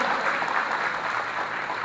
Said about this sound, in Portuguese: eu gostaria que você aplaudisse você mesmo.